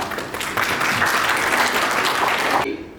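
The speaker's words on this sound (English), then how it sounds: "Please give him a warm round of applause." An audience at an international medical conference gives a speaker a round of applause, building quickly into dense clapping that cuts off abruptly just before the end.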